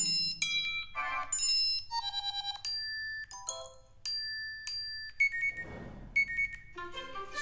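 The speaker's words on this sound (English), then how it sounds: "here you can select a new mail notification sound" iPhone 16e new mail notification tones previewed one after another, a rapid series of short chimes, dings and electronic jingles, clear and close with no talking.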